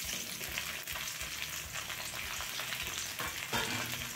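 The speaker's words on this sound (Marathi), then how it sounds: "आता यामध्ये आपण कापून घेतलेली भेंडी आणि कांद्याच्या पाकळ्या छान शॅलो फ्राय करून घेणार आहोत" Sliced okra and onion petals shallow fry in hot oil in a pan, a steady, close, dense sizzle with faint stirring scrapes and no voices.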